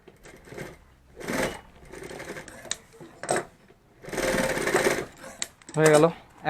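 A sewing machine stitches a handmade bag in several short bursts of rapid mechanical chatter separated by pauses. A voice speaks briefly between the runs.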